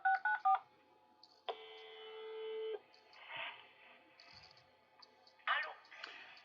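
A telephone number dialed by a caller: a quick run of touch-tone beeps, then a long steady dial tone, followed by soft clicks and connection noises, fairly faint and heard without talk.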